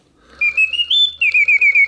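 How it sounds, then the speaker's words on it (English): A bellows-driven whistle in a singing bird cage music box chirps a rising trill, then breaks into quick pulsed notes, loud and close with nothing else around it. "that allows air to go through the whistle, which allows for the breaks in the notes"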